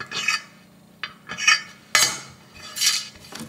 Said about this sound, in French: vous allez y couper avec votre lame dure